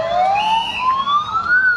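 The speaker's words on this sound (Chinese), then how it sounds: "赶紧出动20架消防车来到现场" A wailing siren from fire engines responding to a nighttime house fire in a residential lane in Taichung, a single rising tone sweeping steadily upward, fairly clear and slightly distant, with no talk over it.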